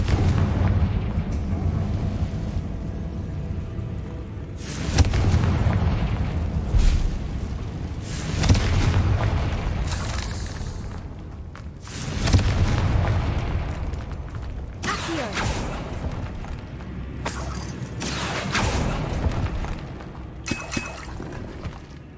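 Confringo spell blasts in a spider-strewn catacomb in Hogwarts Legacy, several loud booming explosions spaced a few seconds apart over rumbling game sound.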